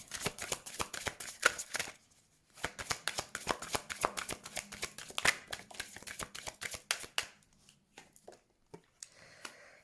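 Oracle cards are shuffled in rapid riffling bursts, followed by sharp, close slaps and clicks as individual cards are laid down one after another, with brief pauses between.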